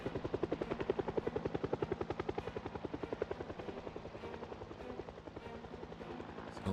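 Loud helicopter rotor chop thumps rapidly and continuously nearby, fading slightly in the middle before swelling again, with no talking.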